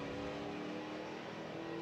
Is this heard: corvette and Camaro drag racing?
yes